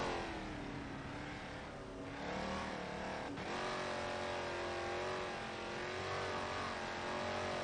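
A hypercar engine roars continuously in a sim racing game, holding a high, steady pitch that drops briefly as the car eases off, then climbs and sustains again, loud and close with no voices.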